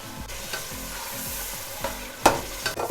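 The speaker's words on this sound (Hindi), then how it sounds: "इसको अच्छी तरह से 4 से 5 मिनट के लिए भूनेंगे ताकि दही का कच्चापन निकल जाए" Whisked yogurt with spices frying in an oiled pan, a soft steady sizzle punctuated by a few scraping stirs of a spoon.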